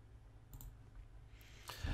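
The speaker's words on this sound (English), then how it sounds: "Again, clicking to apply to the node that I want." Computer mouse clicks while working in RISA-3D structural software, a few faint, sharp clicks spread over two seconds against quiet room noise.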